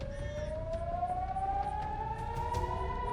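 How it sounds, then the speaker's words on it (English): A missile warning siren in northern Israel wails with a slowly rising tone, steady and sustained, heard from a distance over low rumbling background noise. "IDF said sirens are sounding in northern Israel"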